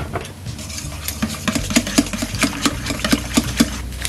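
Eggs and flour being mixed for a recipe, a steady run of regular clicking strokes of a utensil against a bowl that grows more rhythmic and distinct after the first couple of seconds, with no talking.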